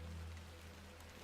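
Steady rainfall in The Excavation of Hob's Barrow video game, an even hiss of falling rain with a low rumbling bed and no voices.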